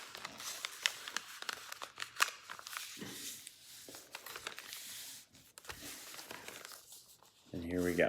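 Soft crinkling and creasing of origami paper being folded into a crane, with intermittent rustles and sharp folds, close and fairly quiet, some handling noise throughout.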